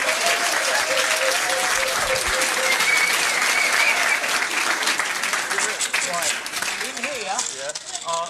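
A pub audience at a music trivia quiz applauds with sustained, loud clapping and some cheering, while a voice speaks over the crowd near the end.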